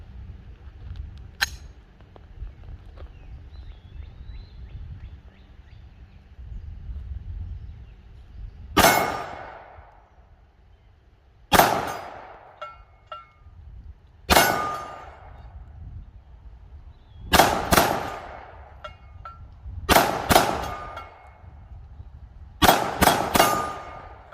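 Glock 17 Gen 5 pistol shots ringing off a steel target outdoors, sharp loud cracks each followed by a metallic clang, fired as singles, a double and quicker strings after a quiet start.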